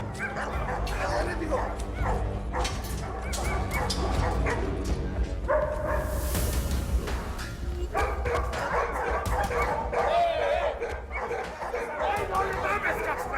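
Several dogs bark, yip and whimper loudly and repeatedly in an agitated chorus close by, mixed with people shouting over them.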